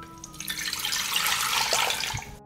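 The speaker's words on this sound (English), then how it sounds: "I pour 1 liter of water into the pot." One liter of water pours into a cooking pot for a vegetable marinade, a steady, fairly loud splashing rush that runs for about two seconds and then cuts off abruptly.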